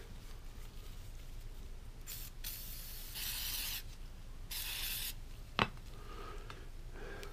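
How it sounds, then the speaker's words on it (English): Glue accelerator sprayed onto Buck 110 knife scales, a few short quiet hissing bursts of spray close by in a quiet workshop, then a sharp click. "Spray it with some of this accelerator here."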